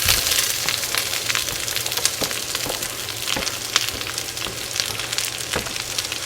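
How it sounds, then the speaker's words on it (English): Onions dropped into olive oil in a Dutch oven over medium heat, a soft continuous sizzle with scattered crackles and pops alongside a low fan hum. "I've got the heat on medium, so we're just going to drop the onions."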